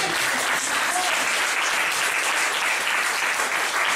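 A church congregation applauding at a prophetic preaching service, dense steady clapping filling the room throughout, close and loud, with no talk over it.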